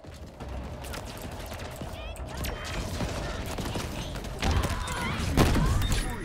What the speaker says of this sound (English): we're double rocket launching